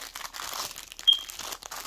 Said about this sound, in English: So these are just like little plastic bags to like double package things in.